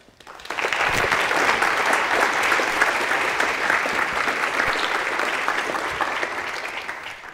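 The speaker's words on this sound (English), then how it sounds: "please join me in a round of applause for the rector of NTNU, Gunnar Bovim" A conference audience applauds the rector of NTNU, a steady, dense round of clapping that swells quickly and tapers toward the end.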